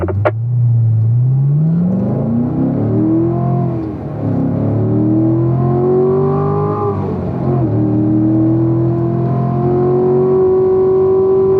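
A Chevrolet Corvette engine accelerates hard on a racetrack, loud and close, its pitch climbing through the gears with brief dips at each shift before holding a high, strained roar.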